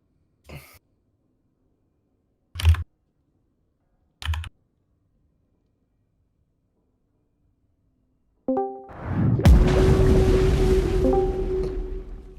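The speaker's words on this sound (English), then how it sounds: "That's Wash's entry noise" A few short clicks in near silence, then a sudden electronic burst that swells into a sustained rushing, tonal sound: a character's entry sound in a video game.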